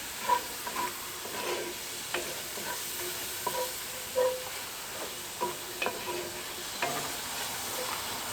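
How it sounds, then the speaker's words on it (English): Rice toasting in oil in a pan over a camp stove for mushroom risotto: a low, steady sizzle with scattered clicks and scrapes of stirring, fairly quiet and with no talk. "So you want to toast that rice for about a minute or two, and then we'll start adding the liquid"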